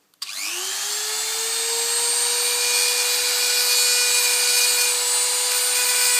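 Dremel rotary tool spinning up with a quick rising whine and then holding a loud, steady high-pitched grinding drone while cutting down a rubber stopper for a stroller brake repair.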